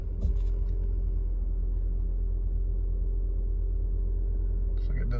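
A 2007 Toyota Camry hybrid driving on the road, heard from inside as a low steady cabin rumble with light road noise, a brief clunk at the start and end and a voice talking over it.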